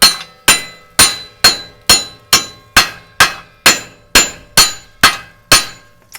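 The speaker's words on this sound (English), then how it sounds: "you can smack the 2 bad wheel studs out" A hammer smacks wheel studs out of the hub on a Lexus GS400, thirteen loud, sharp metallic blows in a steady, even rhythm, each ringing briefly before the next.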